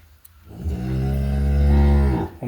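One drawn-out moo from a milking cow offered for sale in Chüy Region, Kara-Balta, a cow with four calvings behind her: deep, loud and near, rising steadily and then cut off, alone without talk.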